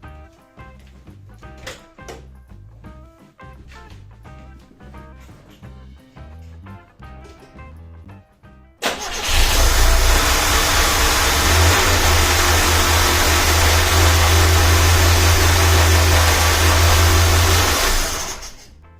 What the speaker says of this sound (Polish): Ja wchodzę do samochodu odpalić.